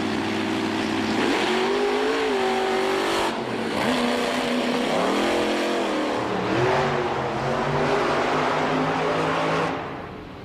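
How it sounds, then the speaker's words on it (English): Steve Sims' Stone Crusher monster truck engine during a qualifying run at Monster Jam World Finals IX in 2008, a loud continuous roar that rises and falls through revs and turns, with a dip in the middle and an abrupt drop near the end. "I heard the motor shut off before he got all the way in the turn."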